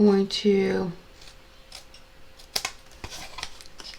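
Scissors trimming card for a Halloween box card, a few crisp snips and clicks in the second half after a short burst of speech at the start, close and fairly quiet.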